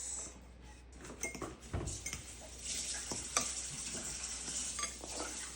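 Minced fish with curry paste and soaked bread is worked together in a bowl, producing soft wet squelching and mixing sounds with a few utensil knocks over a steady background hiss.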